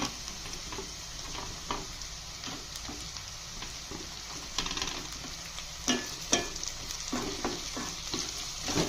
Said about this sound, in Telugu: ఆనియన్స్ వేగాయి కదండి, ఇప్పుడు పెద్దగా తరిగి పెట్టుకున్న బెండకాయలు వేసేద్దాం ఇందులో.